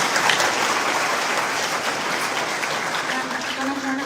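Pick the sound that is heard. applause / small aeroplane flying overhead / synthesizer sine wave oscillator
applause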